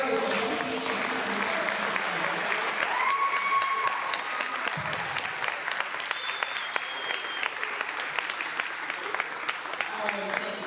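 Staff members at a school panel event on anti-Blackness give the panelists a sustained round of applause, dense and steady for about ten seconds, with a few voices and brief tones rising over the clapping.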